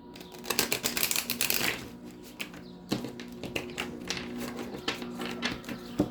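Crisp papery riffles of tarot cards being shuffled, coming in quick bursts with short pauses between, close and fairly soft, no voices.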